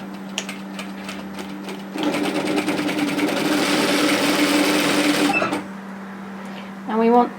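Sewing machine running steadily for a few seconds as it stitches the side seam of a bomber-style varsity jacket, a loud continuous whir that starts and stops cleanly, with quieter handling sounds and a brief voice around it.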